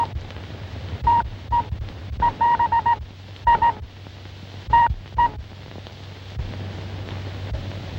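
Someone dials a wireless telephone in an old serial drama. A string of short tone beeps comes in clustered bursts over a low hum and crackly background noise.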